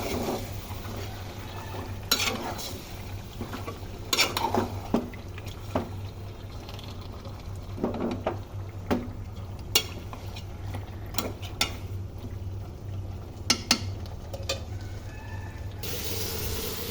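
Food is stirred and fried in a pan in a home kitchen, a steady sizzling hiss broken by scattered clinks and scrapes of a utensil against the pan.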